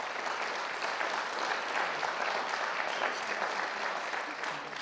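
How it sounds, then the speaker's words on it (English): An audience at a panel discussion gives the panelists a sustained round of applause, dense steady clapping from a crowd that continues evenly without a break. "Could you please give all the panelists a big round of applause?"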